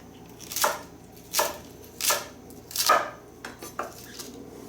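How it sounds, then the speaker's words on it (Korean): A knife chops cabbage on a cutting board in about eight sharp knocks, spaced fairly evenly at first and then quicker near the end. The chops are close and clear over a quiet room with no talking. "양배추는 낱낱이 뜯어가지고 좀 깨끗이 씻어주신 다음에 숨이 죽으면 작아지기 때문에 너무 잘잘하게 썰지 마시고요"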